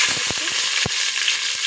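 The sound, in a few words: green chillies frying in hot oil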